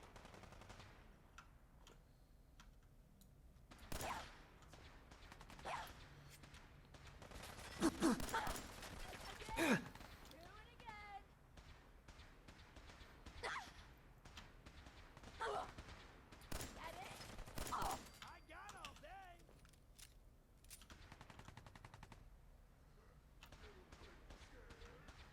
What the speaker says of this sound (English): They're shooting at each other now.